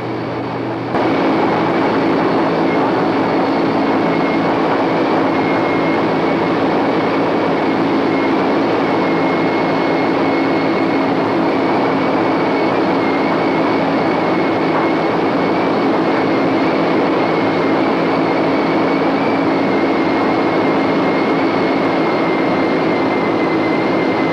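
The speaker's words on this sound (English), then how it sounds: "We decided to play around a little bit, do a little low pass over the runway." A vintage B-17 or B-24 bomber roars in a steady, loud, unbroken drone during a low pass over a runway, holding even for the whole stretch with no voices.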